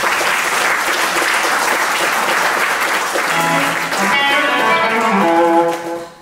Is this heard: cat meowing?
no